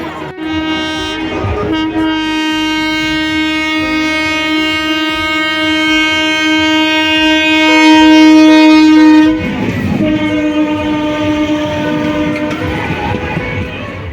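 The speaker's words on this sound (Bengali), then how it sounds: "ট্রেন আসছে।" A train approaching along a railway line near the Thakurnagar fair, sounding a long, loud, sustained horn for several seconds, followed by rumbling wheels and crowd noise close by.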